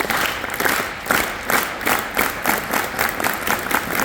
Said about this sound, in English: on 1 we're going to try our best to all stop clapping